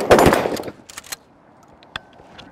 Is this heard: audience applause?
no